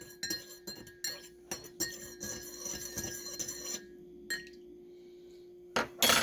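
A spoon stirs coffee with half and half in a cup, giving a quick run of light metallic clinks and taps against the sides, then a pause and a few final clinks, fairly close and quiet.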